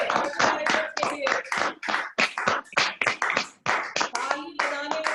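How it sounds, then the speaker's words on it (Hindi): An audience at a life-skills training seminar claps for the company directors, loud rhythmic rounds of clapping in quick bursts that come and go in regular waves. "डायरेक्टर्स के लिए जोरदार तालियां"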